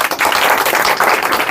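A crowd clapping at a neighbourhood gathering in Pune, a loud, close, continuous patter of many hands throughout the short burst.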